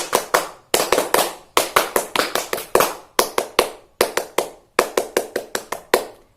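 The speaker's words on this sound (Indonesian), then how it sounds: "Tepuk pramuka." Scouts perform the tepuk pramuka, a crisp rhythmic hand-clapping chant for young Pramuka Siaga pupils at an Indonesian elementary school. Loud, close claps fall in quick patterned bursts of three to five, separated by short gaps.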